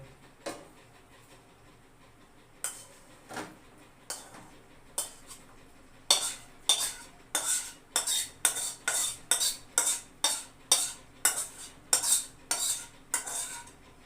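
Egg fried rice tossed in a wok: a few scattered clinks at first, then a steady run of sharp, evenly spaced spatula strikes against the metal, close and fairly loud, with only a faint sizzle underneath.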